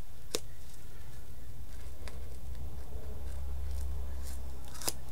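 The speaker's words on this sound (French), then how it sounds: "il faut que je prenne un petit ciseau." Small scissors cutting paper or craft material for scrapbooking, with a few crisp, close snips spread across a few seconds over a quiet background.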